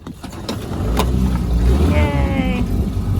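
A catamaran's boat engine, serviced days earlier and idle for five months, cranks and catches, then keeps running with a steady mechanical drone under faint voices.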